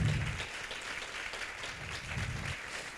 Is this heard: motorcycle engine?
no